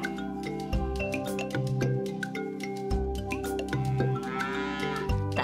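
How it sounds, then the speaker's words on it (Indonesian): Madura cattle on Madura Island in Indonesia low and moo in long, loud, droning calls that overlap one another, close by and continuous, with no talk over them. "Selain jambu yang dikenal dari Pulau Madura secara umum adalah sapi."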